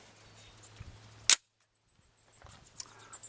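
A single sharp, loud shot from a Glock model 40 semi-automatic pistol outdoors, briefly cutting through steady background hiss and followed by a short lull and faint handling noise.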